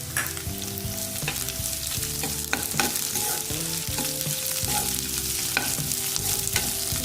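Onions, green chillies, carrot and beans sauté in a pan for vegetable semiya upma, giving a steady, close sizzle broken by repeated scraping stir strokes throughout, with no talking.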